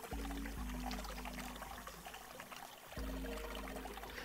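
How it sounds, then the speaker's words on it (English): Water running from a faucet in the video game 999, a steady, quiet pouring stream over a low droning hum, with a brief dip midway before the flow resumes. "I'm running the water."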